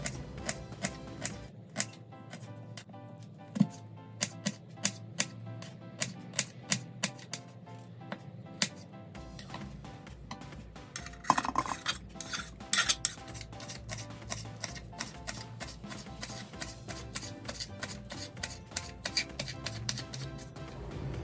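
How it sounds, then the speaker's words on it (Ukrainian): An onion being chopped with a knife on a board: a long run of quick, sharp chopping taps, irregular at first and then faster and steadier, heard close and alone. "А зараз нарізаємо цибульку."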